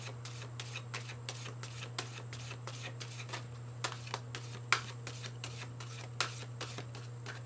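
A deck of oracle cards being shuffled by hand indoors, producing a quick series of soft riffling snaps and flicks at a fairly steady rhythm under a low constant hum.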